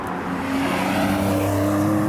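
A steady engine drone with a low, rising hum heard from inside a Porsche 911T, continuous and moderately loud, no talking.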